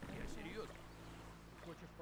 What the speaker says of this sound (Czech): Zase další člun, nebo co to slyším?